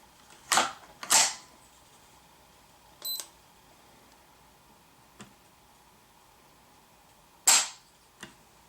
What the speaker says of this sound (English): Third trigger pull,